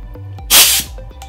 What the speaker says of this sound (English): And then you connect the tool to the air hose.